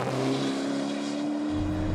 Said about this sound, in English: they've now been able to take out the silencers from the exhaust, and they've also reshaped the bypass valve, so hopefully it should give a better noise